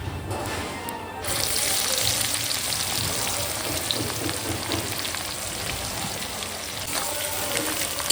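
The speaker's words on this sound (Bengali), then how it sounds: "এরপর দিয়ে দিচ্ছি কোচানো পেঁয়াজ" Sliced onions frying in hot oil with whole cumin, bay leaf and dried red chillies for mutton kosha, a steady dense sizzle that swells louder after a brief quieter start and runs on continuously without talk.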